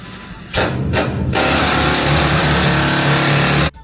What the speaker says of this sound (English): The drill will be running in 3, 2, 1.